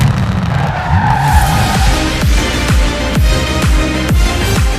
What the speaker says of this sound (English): Just listen to the anti-lag on this Escort. It sounds like Satan choking on a popcorn maker.